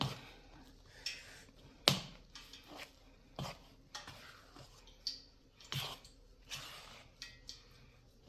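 Spatula scraping and knocking through bun dough in a bowl, a steady run of close, soft stirs broken by sharp clacks against the rim, with no talk.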